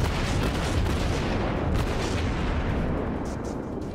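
Naval gunfire from a Mogami cruiser in World of Warships, a dense rumbling barrage of heavy booms that stays loud and continuous throughout, fading slightly toward the end with no talking.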